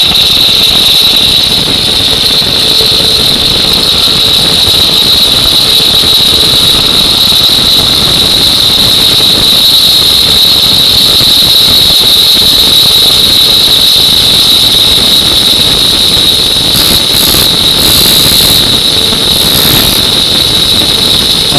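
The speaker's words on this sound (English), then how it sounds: "Now I'm going to very gently start the cut" A cut-off wheel grinds into metal while a tap is being remade, a loud, continuous high-pitched whine and hiss held steady for the whole stretch with a few brief flutters near the end, and no talking.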